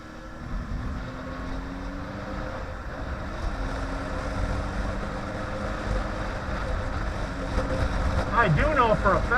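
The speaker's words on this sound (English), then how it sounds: "my bike's running just great right now" A motorcycle engine idles steadily in cold weather, a low continuous rumble that holds throughout and rises slightly near the end, heard close with some wind noise.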